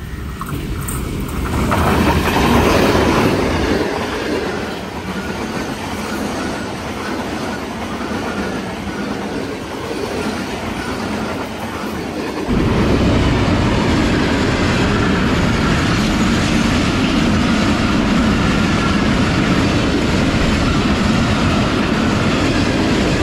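Passenger train from Peshawar Cantt to Karachi, led by locomotive ZCU 206426, rolling through Haripur Band station without stopping, a loud sustained rumble with wheel clatter that swells even louder partway through and continues to the end, no voices.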